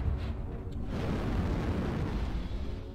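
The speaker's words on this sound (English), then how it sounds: "Oh my, it's a lot of missiles." A barrage of incoming missiles exploding around a mech in a combat game: a steady, heavy rumbling roar of blasts that stays loud for the whole stretch, with no talking.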